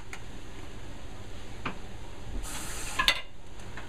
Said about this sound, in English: And you just want to mix it in.